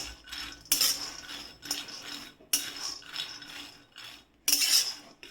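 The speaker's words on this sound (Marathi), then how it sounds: "त्या ते शेंगदाणे टाकून घ्यायचे आणि बारीक गॅसवर छान हलके हलके वाफाळून घ्यायचे म्हणजे भाजून घ्यायचे" Peanuts roast in a kadhai over a low flame while a spoon stirs them, making repeated scraping, rattling sweeps at a moderate level with short pauses between strokes.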